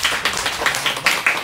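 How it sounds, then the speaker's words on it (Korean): During a church worship service, a congregation claps in a loose rhythm of about half a dozen sharp, bright claps, nearby and moderately loud, with no speech. "자, 우리 하나님께 영광의 박수."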